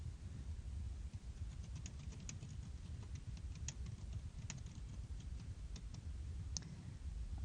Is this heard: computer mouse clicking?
yes